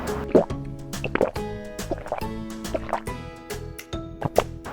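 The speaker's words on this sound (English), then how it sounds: "Quick water break." Water poured and sipped at a meal of barbecue boxed food: a string of plopping, dripping and filling sounds, close and clear, over soft tonal background music.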